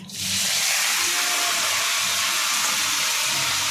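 Dry red chilli, mustard seeds and cumin crackle in hot oil, a loud, steady close-up sizzle with a bright hissing wash that starts abruptly and holds without a break.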